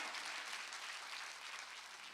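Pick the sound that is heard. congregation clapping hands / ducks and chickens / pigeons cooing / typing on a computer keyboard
congregation clapping hands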